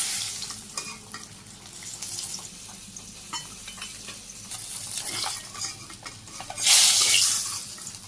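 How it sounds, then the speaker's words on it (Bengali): Fish fries in a pan for a Bangladeshi village chochchori, a continuous close sizzle with stirring scrapes and clatter, swelling into a louder hiss near the end, with no talking. "চচ্চড়ি মাছটা দিয়ে দিলাম, ভেজে নিই।"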